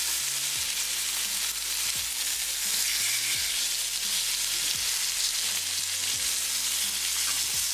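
Catfish pan-fries in hot oil with a loud, continuous, dense sizzle and hiss heard close up, with occasional low knocks, and no voices.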